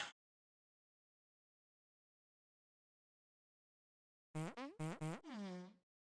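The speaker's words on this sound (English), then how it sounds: "guess you guys are just gonna hear a lot of farting for now." Several short, close fart-like blasts in quick succession, ending with one longer drawn-out one, following a brief burst at the start and a long silent gap.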